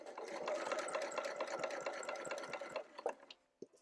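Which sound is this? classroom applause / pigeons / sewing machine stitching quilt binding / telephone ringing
sewing machine stitching quilt binding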